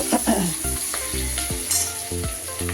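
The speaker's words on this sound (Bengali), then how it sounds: "আর এখানে আমি পেঁয়াজ আলু ভালো করে ভাজতে বসিয়ে দিয়েছি" Onion and potato pieces fry in oil in a home kitchen pan, with a steady close sizzle broken by repeated scraping and clattering strokes as they are stirred.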